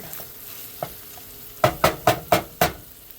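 Meat and onions browning in a hot pan: a low sizzle underneath a run of five sharp spatula clanks and scrapes in quick succession, close and fairly loud, with no talking.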